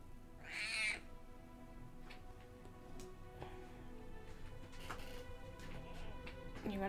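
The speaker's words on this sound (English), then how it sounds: "He's such a loud kitty." A loud house cat gives one strong, drawn-out meow near the start, followed by quieter, scattered vocal sounds over a low room background.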